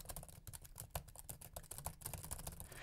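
Rapid, steady key clicks from a Huawei MateBook X laptop keyboard, typed close up with a light clickety rhythm and no talking.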